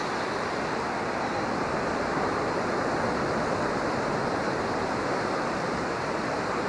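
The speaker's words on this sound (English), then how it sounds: "I'm actually walking as fast as I can, but I'm already in the waves" Ocean waves wash steadily over a rocky beach, a dense continuous roar of surf and spray that stays loud and close throughout, with no talking.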